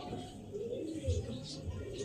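Pigeons kept for sale giving soft, low cooing in a couple of short murmurs, faint and close, with a person speaking over them.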